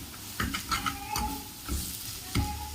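Spices get stirred in a hot pan for a rajma curry, with several distinct scraping strokes over a steady sizzle and a faint high squeak, close and without speech.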